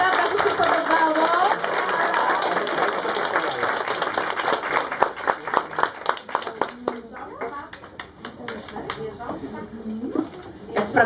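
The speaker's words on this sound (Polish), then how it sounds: "Ogromne brawa dla naszych artystów" Audience applause and clapping for a children's nativity-style performance at a preschool Christmas event, dense at first and thinning into scattered claps, with children's voices and adult chatter underneath.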